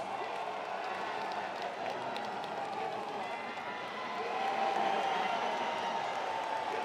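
Crowd cheering and clapping in a steady, dense roar for strongman Hafthor Bjornsson, The Mountain, during an attempt at the 2019 Arnold Strongman Classic, swelling louder near the end beneath a commentator's voice.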